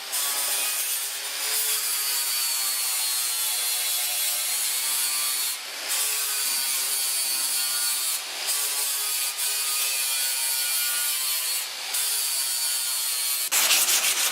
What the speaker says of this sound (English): Now we're getting ready to grind her down